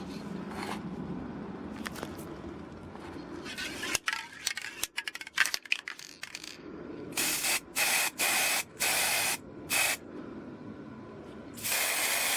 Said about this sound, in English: here you see I'm outside just to paint my boxes with the spray paint, the black matte color.